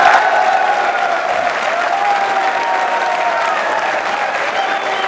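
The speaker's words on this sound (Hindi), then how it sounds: "आप बजाइए जोरदार तालियां" A studio audience on a televised Hindi discussion program breaks into loud, continuous applause, a thick unbroken roll of many hands clapping at a steady level throughout.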